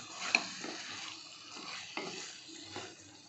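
Brinjal biryani ingredients sautéing in a pot, a faint sizzle beneath gentle intermittent stirring and light scrapes of a utensil against the metal, fairly quiet and close.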